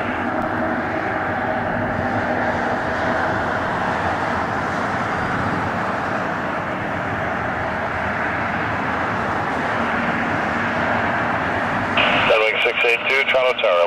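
An Air Canada jet airliner takes off from Toronto Pearson airport with a sustained, broad engine roar, while tower radio chatter plays over it and a burst of radio transmission stands out near the end.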